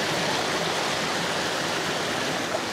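River water in Alfonso, Cavite rushing over rocks into small pools, a steady, close, full-bodied roar of flowing current with no breaks and no voices.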